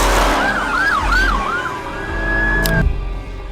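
An ambulance siren wails loud and close on a Houston street, sweeping up and down in rapid yelps before settling into a steady held tone that cuts off abruptly, over a low rumble of traffic.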